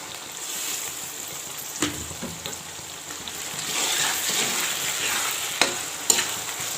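Tomatoes tipped into a hot pot of oil for chana pulao, a soft continuous sizzle with a few sharp clinks and stirring scrapes, the frying hiss growing a little denser partway through.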